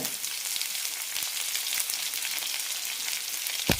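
Sliced onion and curry leaves sautéing in hot oil in a pan, a steady close sizzle and crackle throughout with a faint stir near the end.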